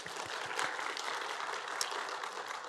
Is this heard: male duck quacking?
no